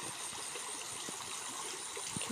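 Water from a small village stream gurgles on a quiet sunny afternoon, a faint, continuous babble with a few soft splashes and no talking.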